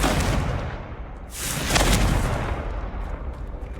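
A Confringo fire spell blasts in the Hogwarts Legacy video game, a loud, dense burst of crackling noise with deep rumble that swells mid-clip and keeps roaring throughout without any speech.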